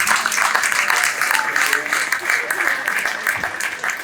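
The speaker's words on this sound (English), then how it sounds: "let's follow that up with a big round of applause for the best man" Wedding guests applaud the best man with a steady, loud wash of clapping that holds for several seconds, with some voices mixed underneath.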